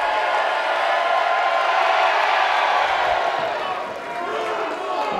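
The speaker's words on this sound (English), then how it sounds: "The crowd is definitely sharing their opinions." A wrestling crowd at a convention event reacts and cheers in a steady, dense roar of many voices that fills the whole clip, loud and unbroken, with no single voice standing out.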